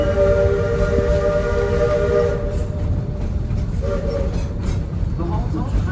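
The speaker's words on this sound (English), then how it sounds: "we'll hear a warning signal from our locomotive that we're coming up to an area known as the Hall Tunnel" A locomotive sounds its warning horn near the Hall Tunnel, a loud sustained multi-tone blast over the rumble of the train, then fading into rolling noise with a shorter horn note later.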